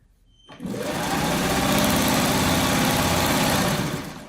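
A sewing machine runs steadily and loudly at full speed, stitching a filler strip onto a freeform quilt block, starting up after a brief quiet moment and holding a constant whirring hum with no voices over it.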